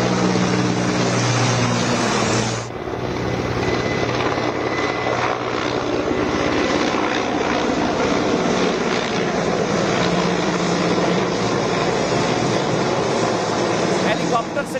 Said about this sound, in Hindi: हेलीकॉप्टर से निगरानी की गई है